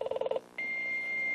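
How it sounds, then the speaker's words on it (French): A phone line to a French Minitel service: a few quick dial tone pulses give way to a steady, sustained high-pitched connection tone, clean and close, ending abruptly. "Tu entends la tonalité aiguë?"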